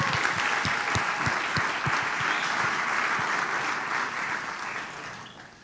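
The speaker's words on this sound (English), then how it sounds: "we owe Eric a round of applause as well" Audience applause at an awards brunch, brisk and sustained, with individual sharp claps standing out over a continuous crowd wash that eases slightly toward the end.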